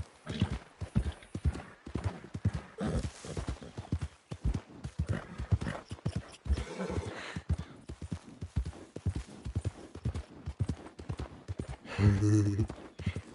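Horse hooves clip-clop steadily in the game Red Dead Redemption 2, a walking rhythm of close hoofbeats with a brief whinny near the end, while a player talks over much of it.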